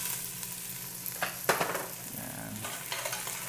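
Garlic fries in a hot pan for chicken bopis, with a steady close sizzle and a few stirring scrapes and thumps partway through.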